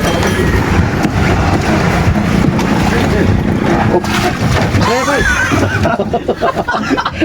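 A boat's engine drones steadily under wind noise during a ride at sea, with people talking over it toward the end.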